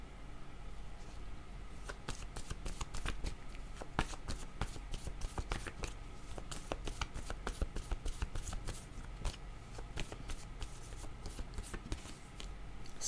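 Tarot-style cards are shuffled for a card reading, a long run of quick riffling flutters and soft slaps in an irregular rhythm, close and fairly quiet, with no speech.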